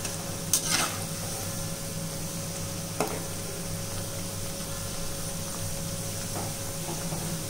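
Onion pakoda frying in hot oil gives a steady, close hiss of sizzling, with a couple of brief clicks from stirring near the start.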